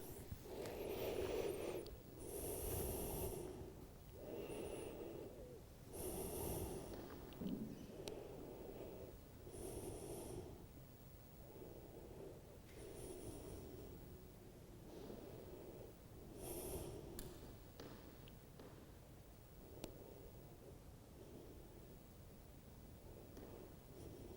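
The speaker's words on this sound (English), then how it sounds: "So reaching forward and taking deep breaths." Slow, deep breaths during a children's yoga session in child's pose at the National Gallery of Ireland, each long inhale and exhale repeating steadily in a rhythmic series, close and clear with no talking.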